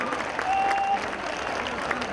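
A crowd claps steadily at a Ramlila Ravan Dahan event in Dwarka, a dense, even patter of applause heard from within the audience, with a voice over a loudspeaker faintly underneath.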